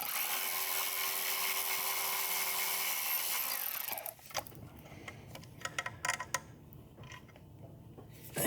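A power tool whirs steadily for about four seconds while backing out the 10mm bolts holding the coil pack on a Chevrolet Impala 3.5L V6, then stops, followed by scattered close ticks and clicks of hand-tool and bolt handling.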